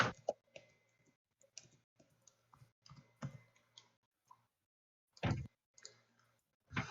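Scattered computer keyboard keystrokes click and tap in irregular bursts and short runs, close and crisp, separated by brief silences, with a faint low hum under some of the typing.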